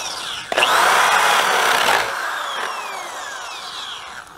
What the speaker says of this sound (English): It's hard to drill through like that when you're coming all the way through